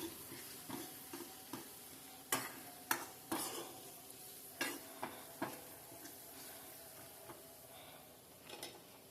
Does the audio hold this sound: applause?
no